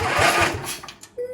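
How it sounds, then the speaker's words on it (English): An engine on a project vehicle cranks over in short rhythmic pulses but fails to catch, the churning fading out before a brief tonal whine near the end. "I can turn the engine over a little bit, but I can't start it."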